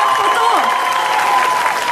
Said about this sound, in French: Donc on va vous demander de les applaudir tous très fort.